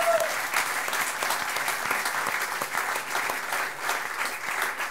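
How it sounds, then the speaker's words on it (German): An audience claps for the 'Augenweide' on the Austrian comedy show 'Wir sind Kaiser': a continuous patter of many hands at moderate volume, with crisp individual claps standing out throughout. "Applaus für die Augenweide"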